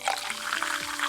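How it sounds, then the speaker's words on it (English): Ale pours into a tankard in the tavern management game Tavern Manager, a short steady liquid splash heard alone. "pour some more ale"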